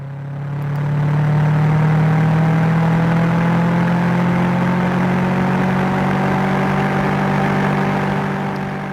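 Subaru Legacy wagon engine droning steadily on a race track, a loud, sustained in-cabin hum with a slowly rising pitch and no voices.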